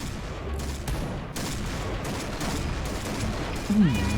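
In the shooter Point Blank, bursts of gunfire crack repeatedly at an uneven rhythm over a continuous busy game background, and a short voice sound cuts in near the end.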